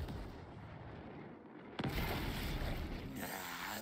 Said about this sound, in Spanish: El objetivo está lanzando cohetes y cambia de posición.